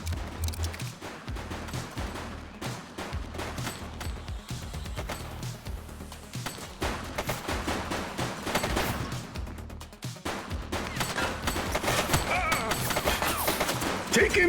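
Dense, rapid gunfire fills a shootout in The Precinct, with continuous volleys, thuds and crashing impacts. Voices shout under the shooting.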